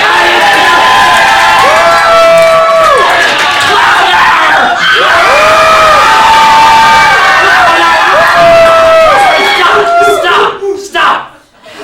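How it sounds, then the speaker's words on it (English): A large crowd cheers, screams and yells loudly and continuously, a dense roar of many voices that surges in waves before cutting off abruptly near the end. "One of you is not cheering loud enough."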